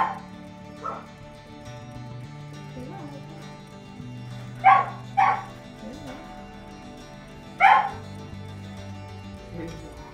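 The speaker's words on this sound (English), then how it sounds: "In the background, Ninja is making some noise" Samoyed dogs indoors, one giving a few short yips and barks from a distance at scattered moments, over a steady low background hum.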